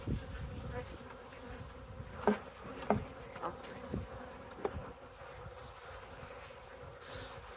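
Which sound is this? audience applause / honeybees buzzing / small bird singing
honeybees buzzing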